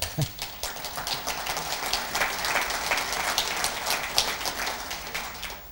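Audience applause at a tourism event in Belfast, with the Minister joining in first; a dense, steady patter of many hands clapping that swells and fades over several seconds, with a voice audible beneath.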